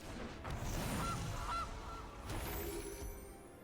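A goose honk sound effect plays when the Gilded Goose card is cast in the MTG Arena digital card game, a pair of short nasal honks standing out over a busy game backdrop.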